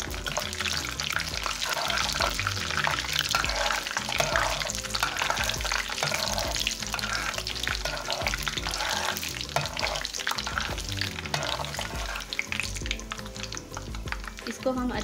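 Carrot pickle spices with whole red chillies, mustard seeds and fenugreek are stirred and cooked in a pan, a dense continuous sizzle with scraping stirs throughout, loud and close.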